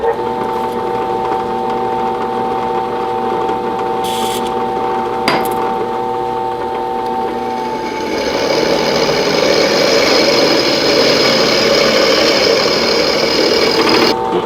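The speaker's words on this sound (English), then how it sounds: "this is actually an expensive Cobalt drill bit I got from Mac Tools" A drill motor with a cobalt bit whines steadily, then bites into a metal trailer part with a harsher, grinding buzz that continues, close and loud, with faint voices at times.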